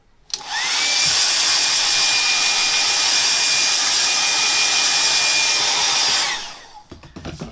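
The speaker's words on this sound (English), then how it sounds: "Out comes my hairdryer. And there's going to be a noise." A hairdryer blows a steady, loud whooshing whine for about six seconds while drying ink on a watercolour cartoon drawing, then clicks off, leaving faint knocks.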